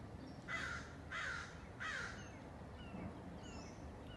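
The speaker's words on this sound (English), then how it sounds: "as the crow calls." A crow caws three times at a steady pace from a moderate distance, faint against quiet outdoor background noise on a ridge in the upper Ojai valley.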